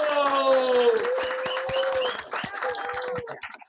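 An audience at a talk on Argentine Jews, Zionism and Israel breaks into applause, a steady wash of clapping that thins out toward the end, with a voice speaking over the start.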